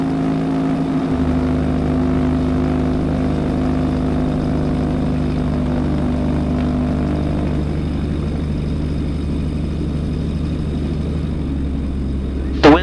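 A Zenith light aircraft's engine idles with a steady, loud droning hum before takeoff. It shifts slightly in pitch partway through as the engine settles, and a brief rise comes at the very end.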